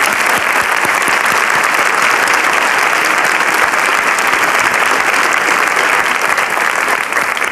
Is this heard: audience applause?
yes